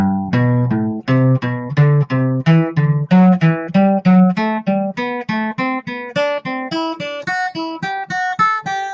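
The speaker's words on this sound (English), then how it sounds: "Another way we can practice our major scale is in thirds" A clean guitar plays a major scale in thirds, a steady run of single plucked notes climbing in skipping intervals, then descending, evenly paced and close, with no talking.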